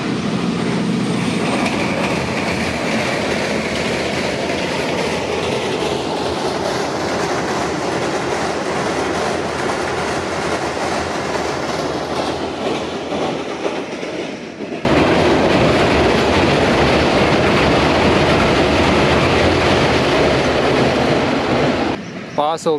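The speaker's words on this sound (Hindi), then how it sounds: "8 डाउन तेज़गाम एक्सप्रेस ZCU20" 8 Down Tezgam Express train with ZCU20 locomotive crossing the bridge over the Upper Chenab Canal, a loud continuous roar of rolling wheels and rattling carriages with rhythmic clatter throughout.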